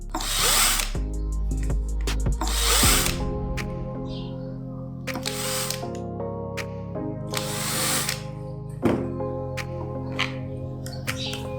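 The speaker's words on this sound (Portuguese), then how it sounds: "Eu vou usar uma parafusadeira." Cordless electric screwdriver backing out the screws from an angle grinder/sander housing: steady whirring bursts with pitch shifts as each screw turns out, close and loud, no speech.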